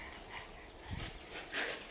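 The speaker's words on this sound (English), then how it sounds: "Is that your doggy?" A dog makes a few soft, brief sounds in a backyard garden near a shed, faint and somewhat distant against steady outdoor background noise, with no talking.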